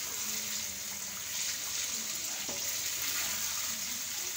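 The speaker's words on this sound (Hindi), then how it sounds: "हमारे चिकन टिक्का देखे फ्राई हो रहा है" Chicken tikka frying over high heat in a pan for chicken tikka karahi, a continuous moderate sizzle with faint stirring, steady throughout.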